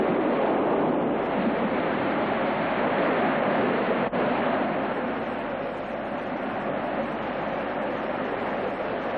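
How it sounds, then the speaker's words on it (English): Heavy Pacific swells pound a coral reef and break over a harbour wall, a loud, unbroken roar of surf and spray with no pause or voices. "high seas pounding on the reef and breaking over the wall"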